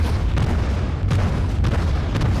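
Cruiser guns firing high-explosive shells in World of Warships, heavy booming salvos repeating every half second or so over a loud continuous rumble.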